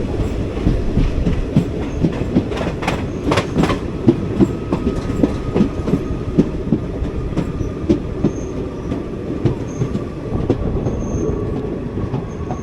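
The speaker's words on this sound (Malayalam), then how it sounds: "നമ്മൾ ജസ്റ്റ് സ്റ്റേഷനിലേക്ക് കയറുന്നു." A Madurai-Guruvayur Express diesel train pulls into Sengottai station with steady rhythmic clickety-clack of wheels over rail joints, close and continuous, with occasional sharper clanks and faint wheel squeal.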